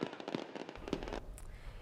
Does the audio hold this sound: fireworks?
yes